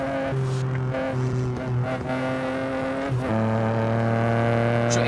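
A tuned Peugeot 207 in the racing game Assetto Corsa revs hard and continuously, its engine tone climbing and dropping through gear shifts, loud and steady with no talking.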